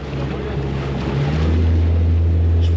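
A boat motor runs on the water of the Bassin d'Arcachon, a steady low drone that rises and grows louder partway through, with wind buffeting the microphone and no speech.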